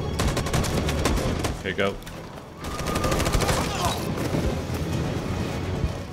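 Dense bursts of automatic gunfire fill a combat scene in the video game Detroit: Become Human, rattling loudly and almost without pause while a voice briefly speaks over the shooting.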